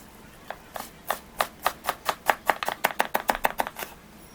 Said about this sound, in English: Now I'm gonna cut into small cube.